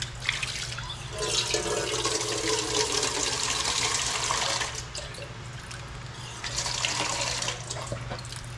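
Hot water runs steadily from a kitchen tap into a sink, a continuous splashing rush with a low hum beneath, briefly dipping in volume midway before picking up again.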